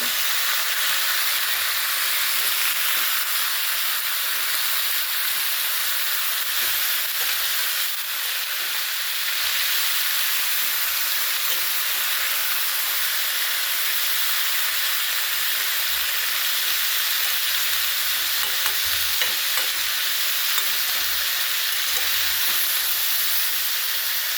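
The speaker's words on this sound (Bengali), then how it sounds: "তরকারিগুলো দিয়ে দিলাম নুন হলুদ দিলাম এবার নেড়ে চলে দেবো নেড়ে করে দিচ্ছি" Vegetables with salt and turmeric sizzle steadily in a frying pan, a loud continuous hissing fry with occasional faint stirring scrapes, no voices.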